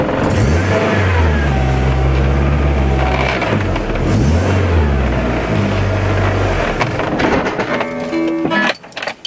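A Volkswagen Golf 1 GLI Karmann engine revs hard in repeated rising and falling bursts, loud and close, then drops away abruptly near the end.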